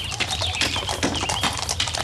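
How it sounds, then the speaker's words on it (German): A fast horse-drawn cart passes on a Roman road, its hooves clip-clopping in a quick, fairly close rhythm amid busy outdoor noise and some bird calls. "vorbei an einem schnellen Pferdewagen"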